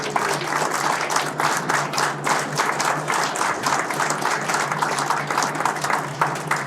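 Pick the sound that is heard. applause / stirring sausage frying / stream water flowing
applause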